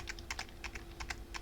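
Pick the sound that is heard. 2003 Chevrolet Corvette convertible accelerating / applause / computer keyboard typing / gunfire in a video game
computer keyboard typing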